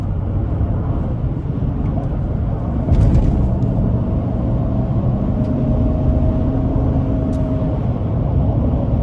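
A 2011 Chevrolet Silverado 1500 LT Extended Cab with a 6-speed automatic driving in manual mode, with a loud, steady engine and road rumble from inside the cab and a slow rise in engine tone between shifts.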